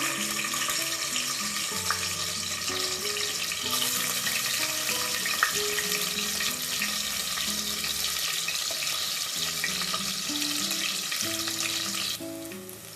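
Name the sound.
onions frying in hot oil and ghee in a pan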